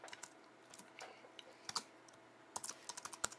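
Fingers type code on a computer keyboard, producing quick irregular clicks and taps in short bursts, close and fairly quiet, with no voices.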